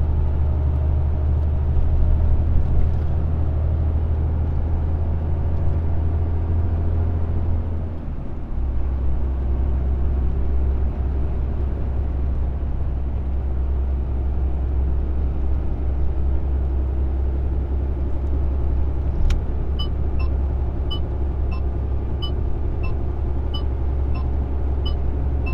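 A car engine runs at full throttle at about 60 km/h, a loud, steady, close rumble that holds for the whole stretch, with one brief dip partway through before it settles back to a constant drone.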